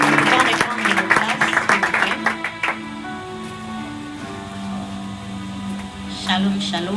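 A church congregation claps and cheers in praise of the Lord, with dense applause for the first few seconds, then thinning out over sustained music.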